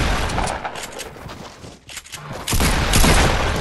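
Loud, continuous gunfire in Fortnite, with rapid shots overlapping in a dense barrage that briefly dips, then returns even harder. No one speaks.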